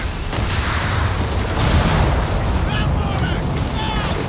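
A stick grenade bursts amid constant WWII battle din in a strategy game, the blast landing near the middle as a broad, loud boom over dense rumble, with scattered smaller pops and crackles following.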